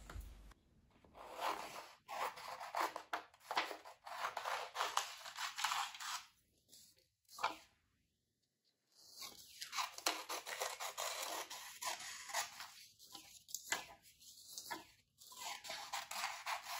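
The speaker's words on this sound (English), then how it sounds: "I start by roughly cutting out the template." Scissors snip and rustle through a paper template for foundation paper piecing, close and quiet, in irregular bursts of cutting with short pauses and one longer gap midway.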